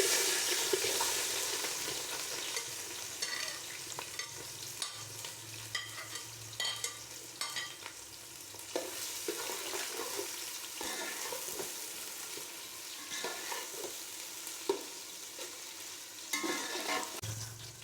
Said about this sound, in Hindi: प्याज को हमने तब तक भूनना है जब तक प्याज हल्का ब्राउन ना हो जाए